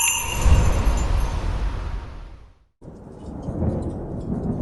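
A heavy rumble of thunder rolls over steady rain and fades to a brief silence. The rain returns and continues, with no talking.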